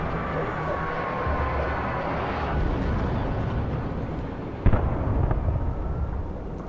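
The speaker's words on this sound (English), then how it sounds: "Those birds just took out a helicopter!" In the Alan Wake video game, a helicopter goes down after birds attack it, giving a roaring rumbling wash of engine and debris noise. A sharp crash-like impact lands near the end, with the roar churning loud throughout.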